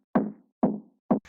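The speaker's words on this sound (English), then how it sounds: "Someone's at the door, knocking." Three knocks on a door, used as a sample in a future house music track, each a dull, close, punchy thud evenly spaced with silence between them.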